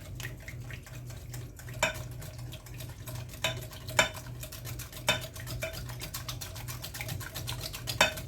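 A spoon stirs liquid cornbread ingredients mixed with sourdough starter in a bowl, producing a steady wet swishing with periodic clinks against the bowl's side, close and moderately quiet with no talking.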